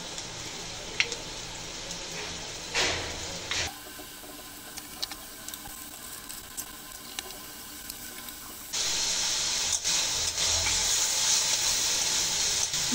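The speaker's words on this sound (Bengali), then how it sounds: "দিয়ে নেড়ে চেড়ে কষিয়ে নেব।" Turmeric, salt and ground spices being stirred and sautéed in hot oil in a pan for a tilapia fish curry, giving a steady sizzle and hiss with brief scraping, quieter in the middle stretch and louder again near the end.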